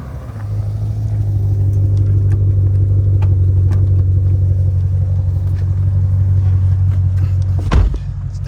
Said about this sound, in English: And the car sounds so good at high RPMs.